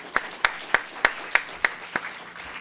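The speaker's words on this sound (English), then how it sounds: "How about a round of applause for Morton," A lone pair of hands claps in a slow, even rhythm, about eight sharp claps across a quiet room at a breakfast gathering, with no crowd swell behind them.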